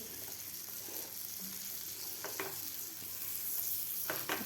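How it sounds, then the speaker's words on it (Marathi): Pav bread toasting on both sides in a pan for Mumbai-style anda pav gives a steady close sizzle, with a few brief scraping clicks from stirring. "दोन्ही पाव आपल्याला दोन्ही साईड करून व्यवस्थित भाजून घ्यायचे आहेत"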